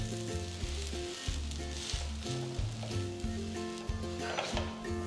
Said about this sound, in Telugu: సో ఇది ఒకవైపు బాగా కాలిన తర్వాత రెండో వైపుకు కూడా తిప్పి కాల్చాలి.